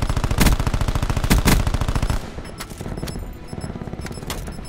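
Rapid automatic gunfire in Black Ops 4, a dense, loud burst of fast shots for about two seconds, then sparser, quieter shots and game sounds.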